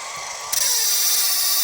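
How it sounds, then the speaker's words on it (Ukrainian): A children's toy Bosch rotary hammer drilling a tile gives off a brief, high-pitched electric whir that switches up in pitch partway through and holds steady, close and fairly loud, with no talk. "Візьми перфоратора, покажи, як робиться отвір, наприклад, ось цій плиточці."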